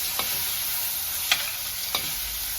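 Spiced street-style vegetable fried rice in a pan, with a steady sizzle and a few scattered scraping stir strokes, close by.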